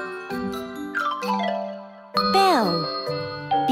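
Bright bell chimes ring in a children's alphabet-learning cartoon. Several clear tinkling dings decay over a steady tone, followed by a sliding, descending chime flourish and a final ding.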